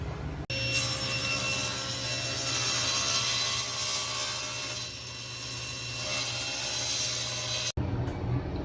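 A table saw cuts wood into strips for an end-grain cutting board, giving a loud, steady whining drone under a high tonal hum for about seven seconds before it cuts off abruptly and briefly restarts.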